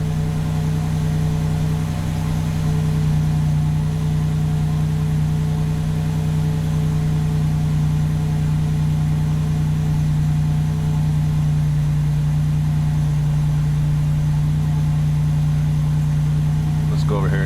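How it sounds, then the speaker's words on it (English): A 1987 Buick Grand National engine idles steadily and loudly up close with a constant low hum, its tone shifting slightly as fuel is reduced, with a person talking over it. "You can hear the engine change"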